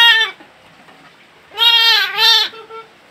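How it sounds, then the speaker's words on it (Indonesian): Batur sheep bleat in a pen, with one short call at the start and a louder, drawn-out wavering bleat in the middle, followed by a brief faint call; near and clear, with no talk. "Ini jenis domba batur."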